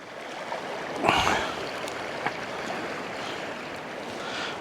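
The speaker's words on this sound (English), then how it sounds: "I like that water washing through" Water washes steadily through a landscape at sunset, a soft broadband rush with one louder surge about a second in, continuing evenly without voices.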